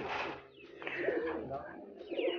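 A breeding pair of double wood fancy pigeons at a pigeon farm in Pakistan coos softly in a short, low, rolling call, faint and close with no voices.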